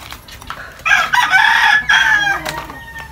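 A rooster among backyard pet chickens crows loudly and close by in one long, strained call, with a little clucking and soft ambient noise around it.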